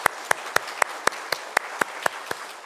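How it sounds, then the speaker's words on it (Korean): A church congregation applauding to bless first-time visitors during a worship service: a dense wash of clapping with a few loud, regular claps standing out near the front. "박수로 축복하겠습니다."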